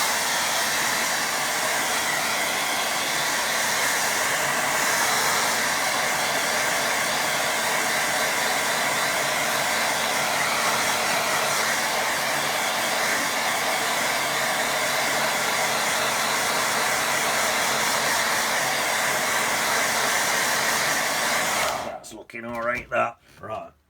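A hair dryer blows steadily and loudly across a watercolour painting of a windmill, a continuous rushing hiss lasting about twenty seconds before it cuts off abruptly, followed by a few faint handling sounds.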